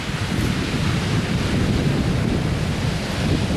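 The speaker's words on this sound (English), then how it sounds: "you can hear that ocean" Pacific Ocean surf breaks at a jetty in Brookings, Oregon as a constant deep rumble and wash, mixed with buffeting wind on the microphone, with no talk.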